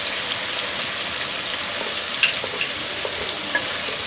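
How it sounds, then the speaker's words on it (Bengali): Okra and potato curry fries with salt and turmeric in a frying pan and is stirred, giving a steady close sizzle with occasional light clicks and scrapes of the spoon. "এটা আমি খুব ভালো করে নেড়ে নেব।"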